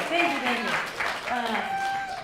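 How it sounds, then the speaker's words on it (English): Audience applause at an advocacy talk on building relationships with representatives, a steady wash of clapping from a crowd with voices mixed in. "can I get an amen or a round of applause or something about that?"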